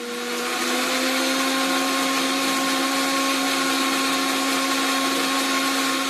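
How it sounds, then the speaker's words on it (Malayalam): A mixer grinder blends cooked rice with thick, mildly sour homemade curd, running as a steady loud whirring drone with a constant motor hum throughout and no talking. "അത് നമ്മൾ മിക്സിയിൽ നന്നായിട്ട് ഫൈനായിട്ട് അരച്ചെടുക്കാം"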